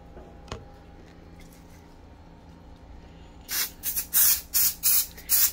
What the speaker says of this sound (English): now I'm gonna use her spray.